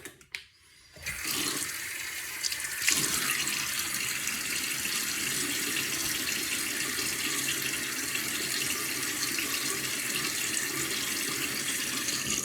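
Tap water gushes steadily into a sink for wetting the face before a shave, a loud, close, continuous rush that starts after a brief quiet moment and runs unbroken, with no voices.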